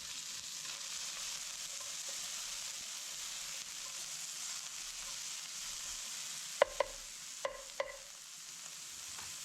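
Ground sausage, green peppers, onions and potatoes frying in oil over medium-low heat make a soft, steady sizzle, broken near the end by a few sharp clicks of a utensil against the pan.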